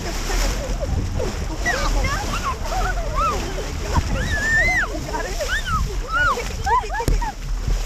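Water splashes repeatedly onto a group of people at a water ride or show, with excited voices and shrieks throughout over steady rushing water.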